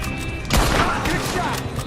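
Gunfire in a shootout in the video game Red Dead Redemption 2, a loud burst of shots striking near the middle over busy game ambience, followed by fainter scattered cracks.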